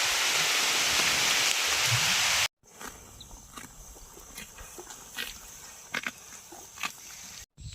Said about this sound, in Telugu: ఫుల్ వర్షం వస్తుంది